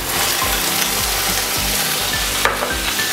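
An oyster omelette (orh luak) fries in a pan with a loud, continuous sizzle. Rhythmic scraping strokes of a utensil sound against the pan about every half second, close and clear.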